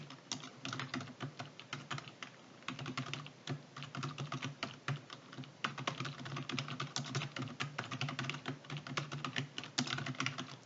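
Rapid typing on a computer keyboard fills the clip with steady, clattering keystrokes and occasional heavier taps on larger keys, heard up close with no voices.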